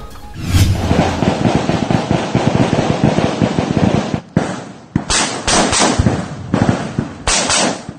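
Gunfire crackles in an exchange between 2nd Infantry Battalion Philippine Army troops and rebels in Uson, Masbate: loud, dense volleys of high-calibre shots burst almost continuously, broken by brief pauses between rapid sequences.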